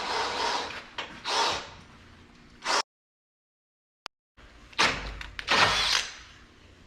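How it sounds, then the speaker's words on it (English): A power drill whines in several bursts, grinding into a metal frame rivet, with a silent gap partway before more short, loud drilling spurts close by. "just like drilling like a regular rivet"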